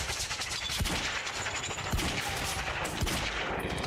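Sniper and rifle gunfire in the Quantum Break video game, a dense stretch of loud, rapid shots cracking over steady combat noise, with several sharper reports standing out.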